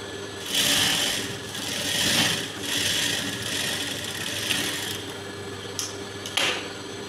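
A sewing machine stitches folded blouse fabric in a loud, continuous mechanical whir that swells and eases, with a few brief clicks near the end.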